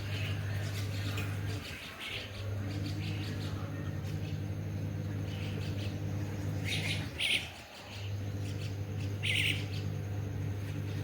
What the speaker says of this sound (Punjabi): ਦੇਖੋ ਜੀ ਚਿੜੀਆਂ ਦੀਆਂ ਆਵਾਜ਼ਾਂ ਆਉਂਦੀਆਂ